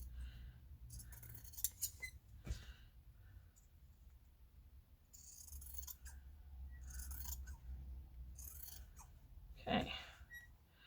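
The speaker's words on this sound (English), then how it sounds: "this is a very squeaky pair of scissors" A squeaky pair of scissors cutting fabric up close, with several bursts of sharp squeaks and snipping clicks separated by quieter pauses and soft rustling.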